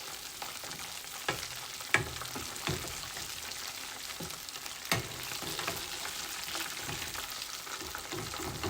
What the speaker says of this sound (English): So I'm gonna let these last few fry up